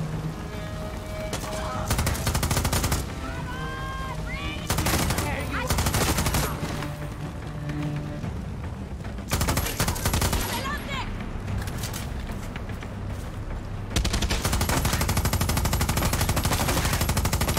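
Sustained automatic gunfire in Far Cry 6 comes in long loud bursts with short gaps, close and dense, while voices chatter over parts of it.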